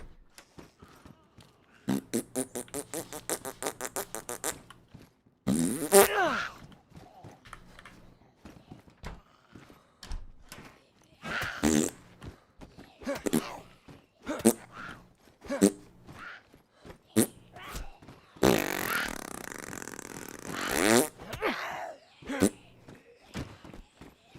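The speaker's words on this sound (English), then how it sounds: "Making farting noises while hitting things?" A voice blows raspberry-like fart noises while a character punches things in DayZ, a buzzing run of wet pulses broken by loud broadband bursts and thuds, with the sounds coming in irregular bursts.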